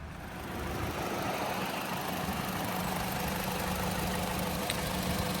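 A 2018 Toyota Corolla iM four-cylinder engine idling steadily, a smooth, even low hum that holds at a constant level throughout with no voices.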